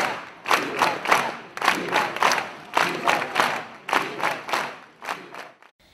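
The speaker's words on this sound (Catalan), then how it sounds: "Els clams de llibertat acompanyats d'aplaudiments van posar punt i final a la concentració." A crowd at a street rally chants rhythmically for freedom, voices rising in repeated shouted bursts mixed with clapping and applause, fairly close and loud throughout.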